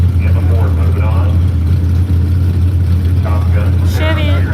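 A Ford race car engine at Firebird Raceway drones loud and steady, a constant low rumble with a public-address announcer talking over it.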